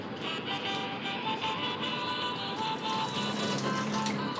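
Steady tap water runs continuously into a sink while crab is washed for an Agri-Koli style crab curry, close and fairly loud with faint clinks.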